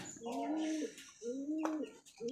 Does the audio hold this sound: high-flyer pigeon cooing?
yes